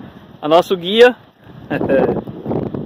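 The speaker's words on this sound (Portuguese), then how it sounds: "Aí tá pegando um vento da bexiga" Gusty wind buffets the microphone with rumbling noise at wind turbine farms during a Yamaha Factor 150 motorcycle outing, under and between a man's speech.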